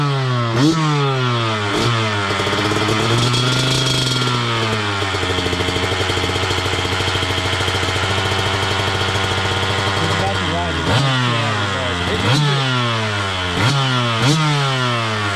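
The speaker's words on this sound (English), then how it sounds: "We'll close out with some shitty 2-stroke sound." A KTM two-stroke dirt bike engine revs hard and repeatedly, rising and falling in sharp bursts, then holds a long steady high-pitched drone before more quick blips, loud and close with a voice mixed in.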